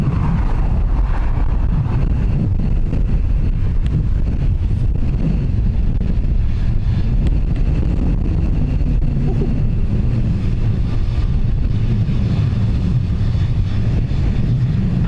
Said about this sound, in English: as you can probably hear, the wind is picking up again.